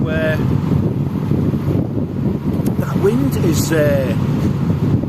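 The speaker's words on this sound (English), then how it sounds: "that wind is getting up a little bit" Strong wind buffets a canal boat cruising between Calveley and Nantwich, a loud steady roar of gusts with rumbling microphone noise, under which a distant voice or call briefly rises.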